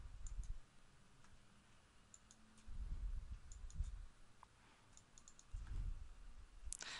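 Sharp computer mouse clicks, several spaced singly and in quick pairs, while an area is measured on a digital map, close and fairly quiet over a low background hum.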